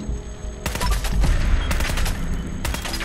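Rapid bursts of gunfire from the Fallout 4 video game, loud and close, with dense overlapping shots in a sustained volley and no talking.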